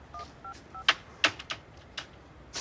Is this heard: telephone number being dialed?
yes